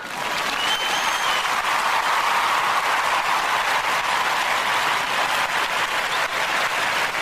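Applause from an audience swells quickly and holds as a steady, dense wash of clapping for several seconds, fairly close and with no talk over it.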